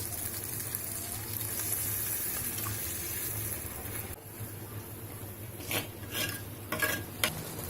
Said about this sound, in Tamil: வதங்கின உடனே ஒரு 150 ml தண்ணி ஊத்திக்கலாம்.